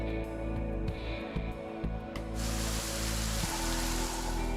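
Steady rain hiss in the video game Goddess of Victory: Nikke, a dense continuous wash of falling rain that swells louder midway, with no talk.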